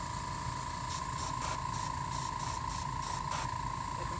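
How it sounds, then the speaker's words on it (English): An airbrush fed by an air compressor sprays acrylic paint as a steady close hiss, broken by a run of short, regular bursts of brighter spray over a constant tonal hum. "the compressor and the airbrush."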